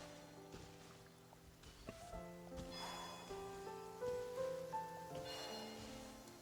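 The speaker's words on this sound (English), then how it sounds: "Taking shelter and listening to the rain cleanse the earth makes me feel safe." Steady in-game rain patters through a Genshin Impact scene, a soft hiss running beneath layered game music with sustained tones and chimes that stay prominent throughout.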